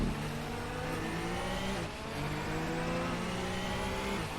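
Group C prototype racers in a racing game, a Nissan R89C and a Porsche 962, drone steadily with layered engine harmonics that rise and dip as the cars accelerate and shift, loud and continuous with no talk.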